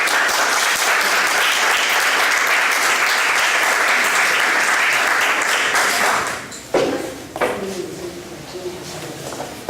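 Audience applause greeting author Teresa Ruiz Rosas at a book presentation: loud, sustained clapping from a crowd for about six seconds, then tapering off into scattered claps and quiet room noise.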